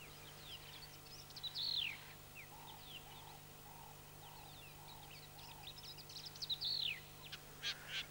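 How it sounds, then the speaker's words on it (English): A grassbird calls in South African bush, repeating a bright sweeping whistle twice among a series of soft lower notes, fairly faint against steady background hiss. "the grass bird also has a rather characteristic and attractive call"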